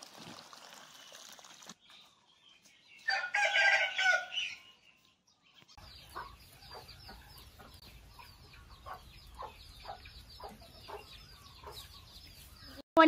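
Laying hens cluck in a close, scattered rhythm, with a rooster crowing partway through, set against faint trickling water.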